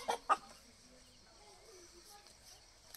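A village chicken clucks in two sharp squawks as it is grabbed, followed by quieter rustling and faint speech on a winter night.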